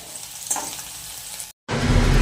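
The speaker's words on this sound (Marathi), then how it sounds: "कांदा चांगला तांबूस कलर येऊसपर्यंत भाजून घ्यायचा" Chopped onion fries in hot oil in a home kitchen, a dense continuous sizzle with a brief stir, a short cutoff, then a louder burst of frying crackle.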